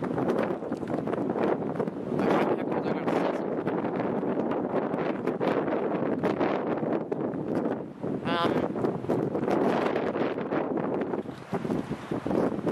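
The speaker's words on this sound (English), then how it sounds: "I don't know if you can hear me over the wind, but the wind is getting really bad right now." Strong, cold wind buffets the microphone in a dense, continuous roar with gusty surges for the whole stretch, drowning out everything else.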